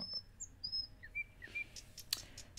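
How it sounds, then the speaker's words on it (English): Birds chirp outside in a video game, a series of thin, high chirps and short tweets, faint and scattered over a quiet background. "The only noise I'm able to make out is the chirping of birds through the crack underneath the door."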